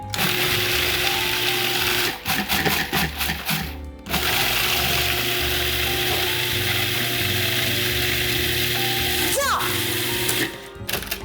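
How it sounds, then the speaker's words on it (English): Blender pulsing a maple mixture for a vegan chocolate cream pie filling, loud grinding motor whirring in bursts with brief stops near two and four seconds and a short pause near the end. "We're gonna blend this until it gets to be a fine mince."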